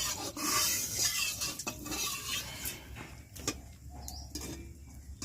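Rohu fish pieces are mixed with turmeric by hand in a bowl in a village kitchen with a wood stove, giving soft wet squelching and occasional clinks of the dish, close and fairly quiet.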